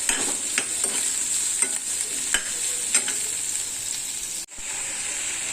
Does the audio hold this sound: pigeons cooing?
no